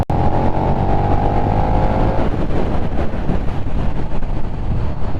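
A KTM 1290 Super Duke R V-twin motorcycle in rain mode accelerating hard, its engine note rising steeply through a gear before shifting into a loud, rough roar that stays close and alone.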